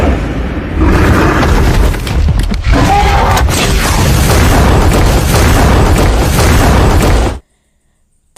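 A bazooka shot explodes against a monster's head in an action-film scene, producing a loud, sustained booming blast with rumbling debris that runs for several seconds before cutting to silence.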